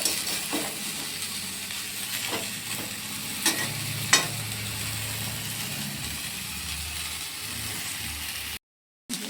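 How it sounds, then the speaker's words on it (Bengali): Cauliflower frying in a pan on a home kitchen stove, a steady low sizzle with occasional scraping stirs and a few sharper clacks of a spatula against the pan, close and continuous before a brief dropout near the end. "একটু ভাজা হয়ে যাক ফুলকপিটা"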